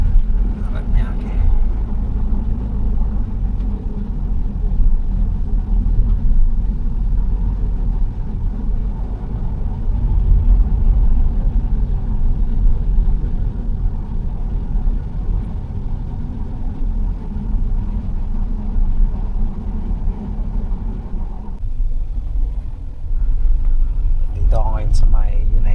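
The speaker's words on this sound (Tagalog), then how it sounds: "Grabe traffic dito." Heavy road traffic in Parañaque heard from inside a car: a steady, loud low engine rumble and idling hum that runs throughout with little change, with a voice speaking over it.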